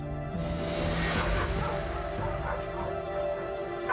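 Taz, an energetic dog adopted from an animal shelter, lets out a run of close, fairly loud yips and bow-wow barks with whimpering tones, continuous over a steady background.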